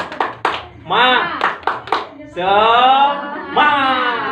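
A group of women claps out a rhythmic cheer, sharp hand claps punctuating loud chanted voices in a patterned call, close and energetic.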